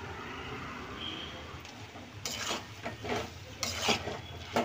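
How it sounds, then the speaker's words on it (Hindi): A radish and mustard greens curry is stirred with garam masala, giving soft, rough scraping strokes of a spoon against the pan over a faint low sizzle, with louder stirs in the second half. "गरम मसाला डाल के मिला लेंगे।"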